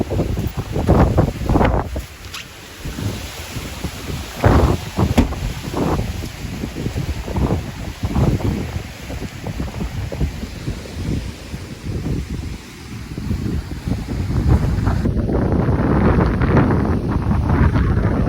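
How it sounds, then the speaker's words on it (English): Strong gusts of wind buffet the microphone in rough, uneven surges, with a constant rushing roar outdoors in the aftermath of Hurricane Idalia at Charlotte Harbor. "windy."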